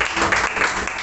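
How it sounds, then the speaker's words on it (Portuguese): A church congregation applauds during a sermon in a brief, dense burst of many hands clapping together, loud and close. "E quem acredita nisso, aplauda o Senhor."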